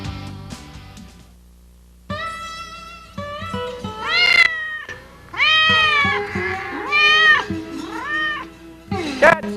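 A cat meows loudly and repeatedly in drawn-out, wavering cries that rise into caterwauling, close and prominent over a background of other sounds.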